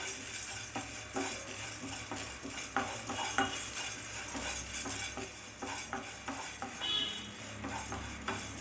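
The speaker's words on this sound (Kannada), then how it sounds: "ತೊಗರಿಬೇಳೆ ಹಾಕೊಂಡ್ಮೇಲೆ ಸ್ವಲ್ಪ ಮೆಣಸು ಹಾಕೊಂಬಿಡಿ ಎಲ್ಲ ಡ್ರೈ ರೋಸ್ಟ್ ಮಾಡ್ಕೊಬೇಕು ಆಯಿಲ್ ಹಾಕ್ಕೊಬೇಡಿ" Toor dal and pepper dry roasting in a pan without oil, stirred with a utensil that scrapes and clinks against the metal in a steady, busy rhythm, with a faint crackle underneath and no voices.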